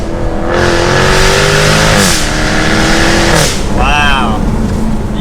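A Jaguar F-Type R AWD engine revs hard on a wooded mountain road, a loud continuous roar rising and falling through shifts, with excited voices over it.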